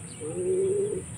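A thin, underweight racing pigeon coos once, a soft, low, drawn-out throaty call close by over faint background hiss.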